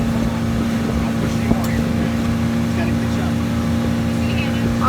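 A boat motor drones loud and steady throughout a ride on the water, a continuous low rumbling hum with wind buffeting the microphone.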